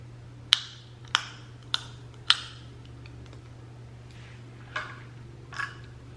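Several sharp plastic clicks of clear dental aligners snapping onto bonded tooth attachments in quick succession, then a couple of softer clicks after a pause, close up over a low steady hum.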